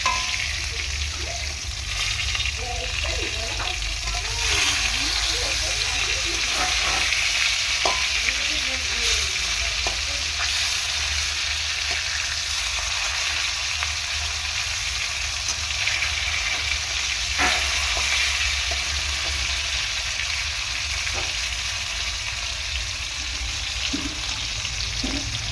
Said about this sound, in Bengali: মাছটা উল্টে পাল্টে ভালো করে ভেজে নেব।